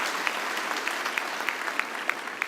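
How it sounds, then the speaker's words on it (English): Audience applause fills a University of the Free State graduation ceremony, a steady close crowd clapping with a few sharper individual claps popping out at regular intervals. "please, let's clap"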